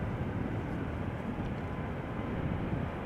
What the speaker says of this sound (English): This is KLM flight 743 going to Lima in Peru. 777-300 ER, 12 years old.